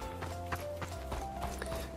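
Horse hooves clip-clop at a steady trot in the survival game Project Evo, with a sustained tonal game-music or engine drone underneath and no clear whinny.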